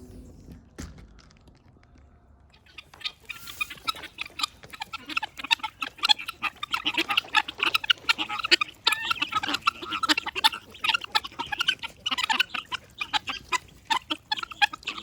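A flock of guinea fowl calls nearby, a dense, continuous chatter of harsh, rapid rhythmic cries that starts after a quiet opening and keeps building loudly to the end.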